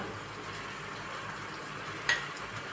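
Prawns and tomatoes frying in a pan for prawn curry: a soft, steady sizzle that stays constant, with one brief clink partway through.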